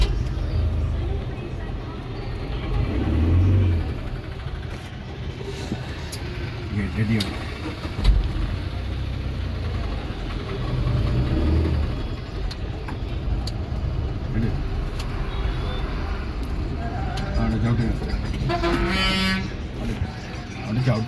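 A car engine hums steadily through a driving lesson, a father instructing from the passenger seat while the vehicle is kept from stalling; low rumble sits under near-continuous talk, with a brief horn-like toot near the end.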